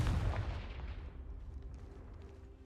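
A Confringo fire spell blast from Hogwarts Legacy lands as one heavy, close boom at the start, then rolls off into a long rumbling, crackling decay with no voices.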